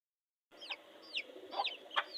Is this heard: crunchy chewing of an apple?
no